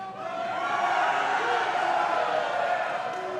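A crowd at a wrestling event cheers in a steady, loud roar of many voices that holds without a break for a few seconds.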